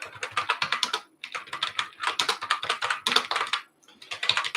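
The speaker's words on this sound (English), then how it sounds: "I'm going to talk and type at the same time." Quick bursts of typing on a computer keyboard, rapid close clicks in runs separated by brief pauses, with no voice over them.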